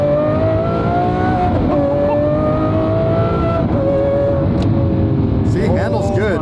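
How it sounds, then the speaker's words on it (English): A 2026 all-wheel-drive BMW driven in Corsa mode gives a loud, steady engine drone that holds throughout, with the revs climbing sharply near the end. "I drive this car in Corsa"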